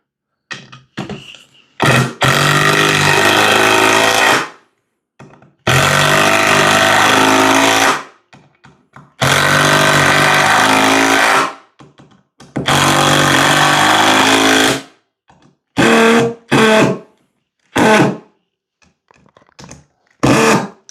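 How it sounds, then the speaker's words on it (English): A Makita drill driver drives screws and lag bolts into wood in several long, loud bursts of whirring motor, each ending cleanly, followed by shorter quick pulses near the end. "first up, we're going to drive some screws and some lags with the Makita."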